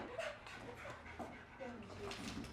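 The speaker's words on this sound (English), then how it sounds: "We have a very excited dog." An excited dog whimpers and yips in short high whines amid panting and shuffling, close by, with a person talking over it.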